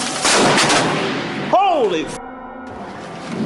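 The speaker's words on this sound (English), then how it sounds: "A bolt of lightning cracks across the brick wallway in front of him." A lightning bolt strikes beside a brick walkway during a hailstorm, giving a sudden loud thunder crack with a sharp descending whine, then a fading rumble behind steady rain and hail noise.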